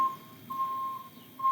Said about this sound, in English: Ooh, it's a truck beeping.